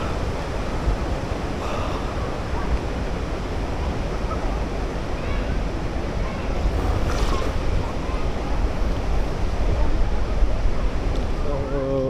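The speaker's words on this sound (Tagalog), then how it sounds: "Dito tayo sa tabing dagat, no?" Ocean waves wash against the seashore in Palawan, a constant roar of surf mixed with wind buffeting the microphone, growing slightly louder toward the end, with faint voices in the background.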